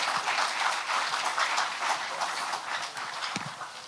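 Conference audience applauding for a keynote speaker, a continuous broad patter of many hands clapping at moderate volume, steady and without speech.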